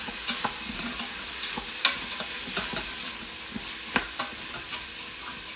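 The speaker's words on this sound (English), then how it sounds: "we're really sizzling." Food sizzles steadily in an Instant Pot while making lentil soup, a constant frying hiss with scattered crackles and pops, heard up close.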